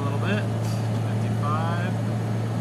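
A 1982 BMW 325 pulling onto a freeway, its engine a steady low drone with road noise beneath, while a voice speaks over the cabin sound.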